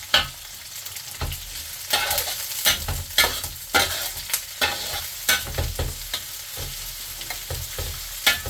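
Garlic, ginger and onion sauté in a hot pan, a steady close sizzle broken by repeated scraping stirs at an uneven rhythm, with no one talking.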